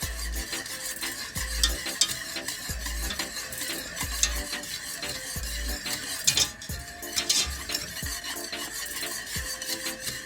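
Macaroni and cheese with black pepper and salt is stirred in a pot, with a steady rhythm of spoon scrapes and low thuds over a soft background sizzle, close and without voices.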